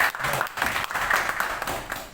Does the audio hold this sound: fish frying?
no